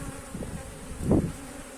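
Honey bees buzz at an opened hive during beekeeping work on a queen excluder, a steady close-up hum that swells louder near the end.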